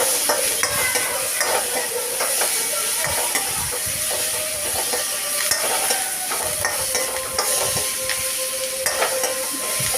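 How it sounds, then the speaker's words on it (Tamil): Chopped tomatoes and onions sauté in a hot pan, with a continuous sizzle broken by repeated scraping and knocking of a spoon stirring against the metal, close and busy. "நல்லா 3 சேர்ந்து நல்லா வதக்கணும்."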